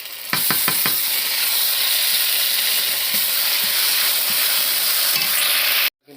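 Onions sizzle loudly in hot oil as a ginger, garlic and cumin paste is added, a constant hissing fry with a few sharp scrapes of stirring near the start, cutting off abruptly at the end.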